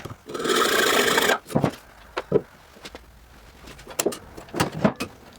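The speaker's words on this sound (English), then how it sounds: "Just cut it with a hacksaw." Hacksaw cutting fiberglass stripping for a boat build, heard as a steady rasping run of strokes for over a second, followed by several short separate scrapes and knocks of handling.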